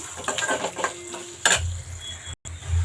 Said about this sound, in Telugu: కొంచెం పసుపు వేసుకుందాము వేసుకుని ఒక సెకండ్ అలా కలిపేసుకుని